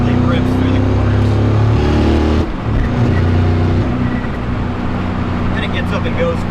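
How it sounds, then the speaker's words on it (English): A supercharged 650-horsepower 1963 split-window C2 Corvette with a six-speed T56 Magnum gearbox growls loudly and close through twisty turns in cold weather, revs dropping briefly before it pulls again, with a voice talking over the engine. "this car just effortlessly rips through the corners"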